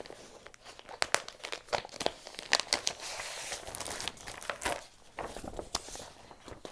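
Half square triangle paper from Primitive Gatherings crinkles and rustles as it is pulled from its package, with irregular sharp crackles and crumpling bursts close by for several seconds and no talking.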